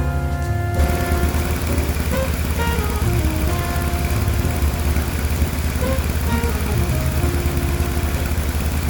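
A BMW R1150 GS motorcycle engine idles steadily close by, a constant low rumbling hum with no breaks and no voices.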